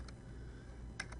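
A few light, quick keystrokes on a computer keyboard, faint and close in a quiet room, a single tap followed by a short pair of taps.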